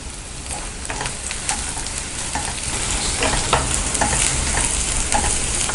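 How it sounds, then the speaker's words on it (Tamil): Onions and cumin seeds fry in a pan while a spoon stirs them, a continuous sizzle overlaid with repeated scraping and clicking strokes that grow slightly louder toward the end; nobody speaks. "வெங்காயம் வதங்கிட்டுருக்கு, சீரகம் போட்டுக்கலாம்."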